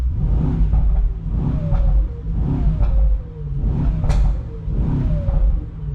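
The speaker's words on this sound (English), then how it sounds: "Let me just put the windows down and give you a few revs and a bit of a sound check" Mercedes-AMG GT63 hybrid V8 revved with the windows down, several loud, near blips in a steady rhythm, each rising and falling over a deep rumbling idle.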